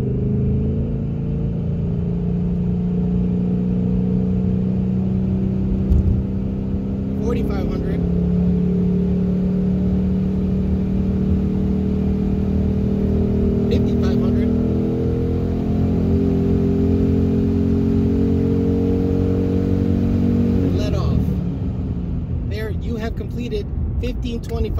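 Engine of a Vortech supercharged 2019 Ford Mustang GT held at steady revs, then stepping up to higher revs in stages, loud and close with a constant droning tone.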